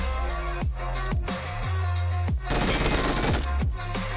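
An MG3 machine gun fires in BGMI as rapid, sustained automatic bursts, loud and close, broken by a few short pauses and accompanied by whooshing, descending game effects.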